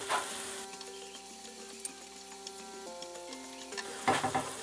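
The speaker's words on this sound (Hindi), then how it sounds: "थोड़ी देर के लिए इसको अच्छी तरह भून लेंगे।" Chicken frying in a gravy masala for aloo chicken, a faint steady sizzle with a few soft stirring scrapes near the end, heard under a quiet background tone with no talk.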